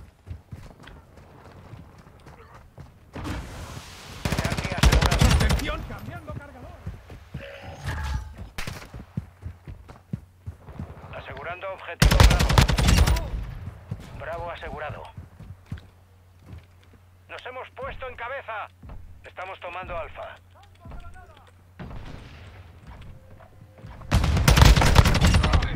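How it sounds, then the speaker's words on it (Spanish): Machine gun fire in the online shooter Call of Duty: Modern Warfare II comes in several loud rapid bursts among other game effects and footsteps, with players talking in between. "Ametralladora lanzada."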